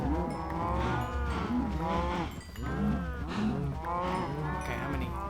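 Cows moo in a video game, two long, loud, close lowing calls one after another with a short gap between them.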